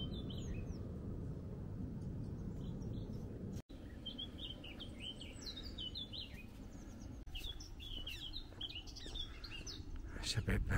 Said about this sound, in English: There's some nice bird song here.